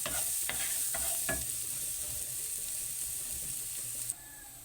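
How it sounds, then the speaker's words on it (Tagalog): Garlic and onion sizzle steadily in melted butter in a new pan, broad frying hiss with a few sharp spatula scrapes and stirs early on, close and continuous with no talking. "I-saute natin yung bawang at sibuyas"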